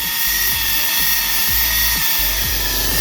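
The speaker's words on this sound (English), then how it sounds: "I just hit it with the 7-inch polisher as well" A 7-inch polisher glides over a Corvette headlight lens, giving a loud, steady motor drone with a hum that dips and rises rhythmically as the pad moves across the surface.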